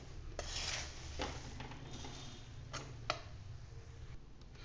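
Puffed rice tossed with chili and turmeric powder in a pan, giving soft scraping and rustling strokes with occasional light clicks from the spoon against the metal, steady and close.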